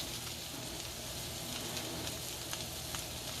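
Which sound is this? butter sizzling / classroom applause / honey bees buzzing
butter sizzling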